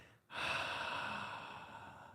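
A deep, breathy exhale during a guided meditation breathing exercise starts abruptly and carries on as a long, steady airy rush that fades slightly toward the end, heard close and alone.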